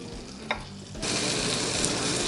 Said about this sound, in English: We're going to start off with another tablespoon of butter and a teaspoon of olive oil